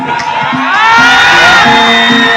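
A crowd at a religious gathering for a Vishnu yagna cheers and whoops loudly as banknotes are showered, a dense burst of voices swelling over a couple of seconds with music underneath.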